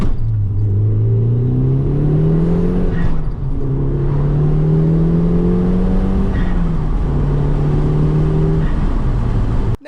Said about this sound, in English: You're going to hear the audio from the car as if you're driving it.